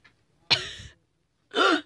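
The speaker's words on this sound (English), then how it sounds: "You coughed." Two sharp, close coughs sound alone in quiet, the first a harsh explosive bark and the second a shorter throaty hack a second later.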